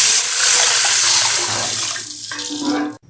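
Plain water pours steadily into a cooking pot for a Malaysian noodle soup, a loud continuous splashing rush that shifts in tone near the end as the pot fills, then stops abruptly.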